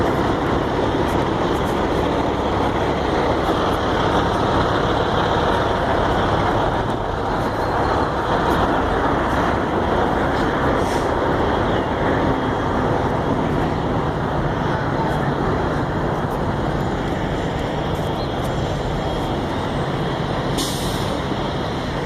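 Steady, loud roar of trucks and cars at a truck stop parking lot just off Interstate 10 in San Antonio, Texas, with idling engines, passing traffic and a faint hiss near the end.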